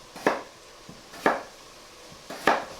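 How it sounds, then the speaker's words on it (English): A knife slices through potato on a cutting board, three crisp, evenly spaced chops with a woody knock each time the blade hits the board. "and then slice in the opposite direction, just like so"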